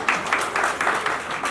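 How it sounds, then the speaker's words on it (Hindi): Audience applause at an award ceremony honouring teachers in Lucknow, a steady, dense patter of many hands clapping in rhythmic waves throughout. "वहीं पर बजा दो आईपा के लिए जबरदस्त तरीके से जोरदार ताली"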